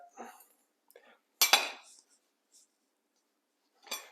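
A knife works through a golden-brown braised beef sandwich on a plate, giving a few short scraping and crunching strokes, the loudest a brief burst in the middle, with quiet pauses between them and no talking.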